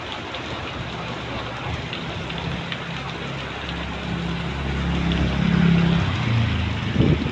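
Heavy rain pours down in coastal Murud, driven by a stormy wind. It makes a dense, steady hiss throughout, and a gust swells louder toward the end.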